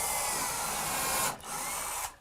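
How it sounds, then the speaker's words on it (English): A power drill whines loud and close as it drives screws into a wooden drawer front, one sustained burst, a brief pause, then a second burst before it stops. "permanently attach the draw front to the box with a few screws"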